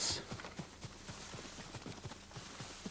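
Horse hooves clip-clop in the video game Ghost of Tsushima, a steady quick rhythm of soft thuds at moderate distance, alone with faint ambient noise.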